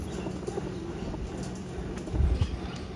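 Pigeons in a loft give low, soft coos over faint background sounds, with a fuller burst of cooing near the end and no talking.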